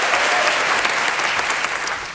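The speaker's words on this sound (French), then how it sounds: "je vous demande de l'applaudir, Mireille Salone." Studio audience applauds a contestant on a French TV game show, a steady dense wash of clapping holding at full strength throughout before easing slightly at the end.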